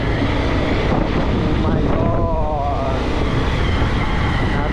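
Strong wind buffets the microphone outdoors in a village during Holi, a steady roaring rush with low rumble throughout, loud and continuous with no break.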